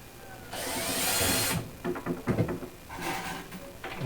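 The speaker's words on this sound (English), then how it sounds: "You take your drill with your spade bit on it, and you pre-drill where this is going to fall." A power drill fitted with a spade bit bores into a base cabinet panel, a steady high whine for about a second, followed by several short bursts of grinding and knocking as the bit bites and is withdrawn, near and fairly loud.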